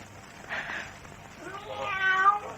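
A cat meows twice, a short cry followed by a longer, drawn-out one, heard fairly close over a low background hum with no talk.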